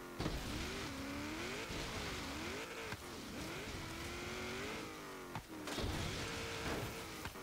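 A 1991 Jeep Grand Wagoneer in the racing game Forza Horizon 3 drives hard off-road, its engine droning and rising and falling in pitch with revs, broken by occasional thumps from bumps and jumps.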